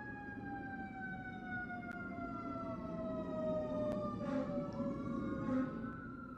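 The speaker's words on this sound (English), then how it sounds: "as the sirens blare outside my house" Distant emergency sirens wail with slowly falling, overlapping tones over a low traffic rumble, faint and steady.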